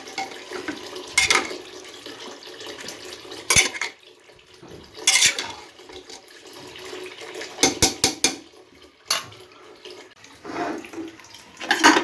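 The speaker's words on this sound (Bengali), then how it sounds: "সুন্দর করে মিক্স করে নিই।" Ingredients for mung dal with Malabar spinach are stirred together in a pot, with clanking metal utensil scrapes and knocks in irregular bursts over a steady background of running water.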